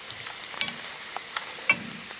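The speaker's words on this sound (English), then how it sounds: "That's boiling right there." Water bubbles and pops in a pot on an antique wood stove, with soft irregular crackles and small bursts over a steady low hiss.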